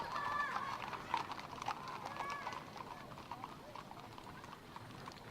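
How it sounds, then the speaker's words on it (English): A horse in the Sorcery video game clip-clops and whinnies on a town street, a short neigh standing out over steady game sounds and voices. "Horse whinnies and shakes its mane."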